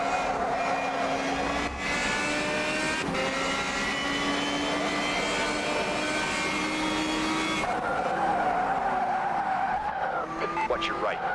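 A race car in a racing video game loses control and skids, tires squealing in long sustained screeches over a high engine whine, loud and close throughout, with a brief voice speaking.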